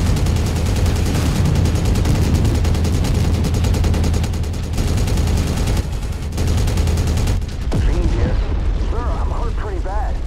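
Weapons fire from battling mechs in the modded video game Mechwarrior 5: Mercenaries, a dense, loud barrage of booming shots and explosions running almost continuously, with brief whistling tones near the end.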